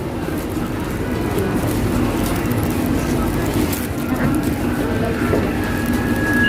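A Bangkok MRT subway train arriving at a station, a steady loud rumble and rolling hum that continues throughout, with someone talking over it.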